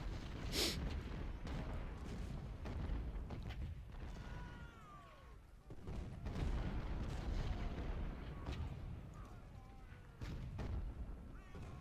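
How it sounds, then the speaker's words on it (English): Booming cannon fire from 24-pounder guns on an American Civil War battlefield in Ultimate General: Civil War, the Second Winchester battle, with repeated heavy blasts and rumbling over a dense battle din while a voice speaks over it. "obviously the cannon fire is less effective at the longer ranges of the 24-pounders"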